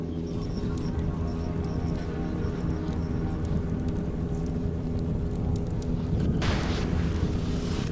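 A roaring, crackling fire effect from the game Underrail engulfs a character, a steady dense rush of flame noise that swells louder near the end, with no talk over it.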